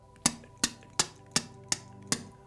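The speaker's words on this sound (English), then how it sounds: "The first thing I want you to do is make this sound with your tongue." A tongue click for the freediving T position, repeated six times at a steady, slightly uneven rhythm, sharp and close with quiet room hum beneath and no talking.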